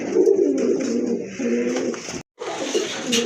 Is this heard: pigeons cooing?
yes